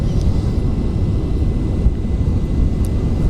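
A rocket engine throttled down to one-third thrust during a Kerbal Space Program launch, a loud continuous low roar with a broad rumbling body, steady and unbroken for several seconds with no one talking.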